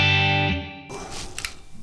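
Les Paul electric guitar played through a NUX Tape Echo delay pedal, slightly dirty tone: a sustained chord rings and is cut off, then repeating echoes trail away with faint noise.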